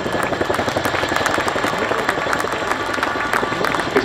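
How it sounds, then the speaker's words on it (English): Steady, dense rotor and engine roar from an RAF Chinook helicopter flying an airshow display at Cosford, loud and continuous throughout. "the 2018 Chinook display team"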